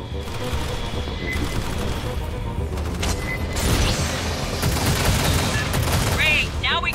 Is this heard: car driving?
no